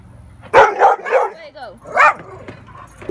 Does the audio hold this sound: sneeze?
no